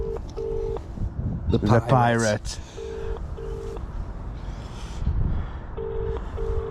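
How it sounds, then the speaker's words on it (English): A telephone ringing tone repeats in short paired beeps, interrupted by a burst of muffled voice and background rumble, on a canal bank while pike fishing. "Phone's ringing now."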